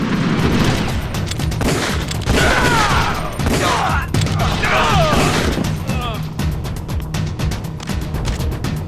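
Bursts of video-game gunfire, rapid shots and sharp impacts in a firefight, loud and close, mixed with a person talking over the action.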